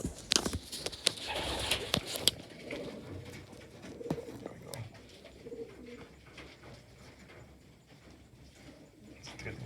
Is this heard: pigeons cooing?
yes